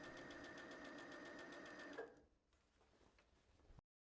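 Sewing machine running steadily as it stitches a jersey seam at a 1 cm allowance, a dense even whir of rapid needle strokes for two seconds before stopping, followed by faint handling clicks and rustle.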